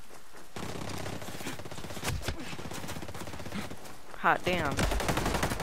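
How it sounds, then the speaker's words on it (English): Hostile enemies fire on the player in the Ghost Recon video game, with sustained rattling bursts of automatic gunfire. Someone speaks briefly over the shooting near the end. "Hostiles are shooting."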